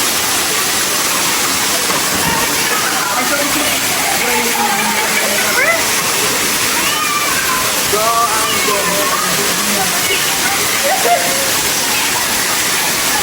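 Water pours steadily at a waterfall, a loud, continuous rushing and splashing close at hand, with faint voices mixed into the roar.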